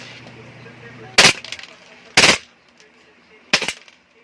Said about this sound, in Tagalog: try natin ng full auto para ma-test naman natin